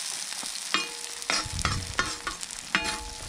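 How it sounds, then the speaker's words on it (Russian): Halved potatoes fry on a hot saj griddle outdoors by a river, giving a steady close sizzle broken by several sharp scraping and clinking knocks as pieces are spread across the metal. "Теперь ее распределяем по саджу. Чтобы каждая у нас половиночка поджарилась с этой стороны."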